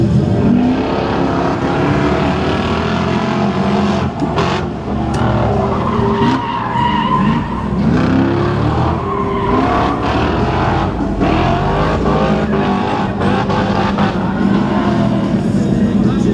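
A Mercedes V8 car doing burnouts and drifting on a race track during a track day, with loud, continuous tire squeal and roaring engine close by.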